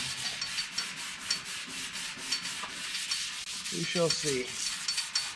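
Hand scuffing of the painted body surface on a C10 muscle truck before a Raptor liner coat, a steady close rubbing and sanding rasp repeated in short strokes, with a brief spoken phrase near the end.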